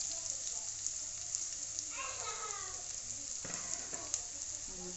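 Ginger and garlic paste frying in a pan, a continuous close crackling sizzle with a few stirring scrapes partway through.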